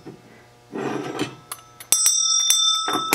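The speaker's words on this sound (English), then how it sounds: "Here's an early school bell." An antique early school bell with a handle rings in short bright strikes, followed by a sustained clanging ring with shimmering overtones, close and fairly loud in a quiet room.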